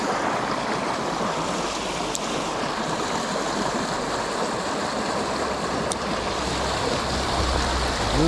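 Swift river water rushes past in a loud, continuous flow, close by and unbroken. A couple of faint ticks sit over the steady roar, and no one speaks.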